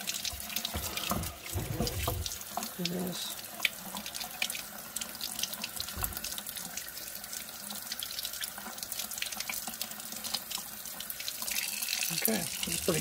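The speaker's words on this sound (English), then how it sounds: "cool it off in the sink here." Sink tap running steadily to cool a vintage stovetop mocha pot after brewing, a close continuous splash and hiss of water with occasional clunks against the metal pot.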